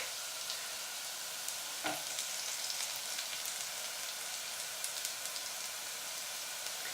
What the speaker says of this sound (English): my onions are now just beginning to take on some colour, so I'm going to add the garlic